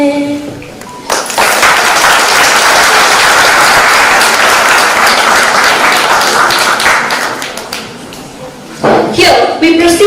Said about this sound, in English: I expect an outburst of applause from you all.